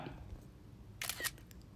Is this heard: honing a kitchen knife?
no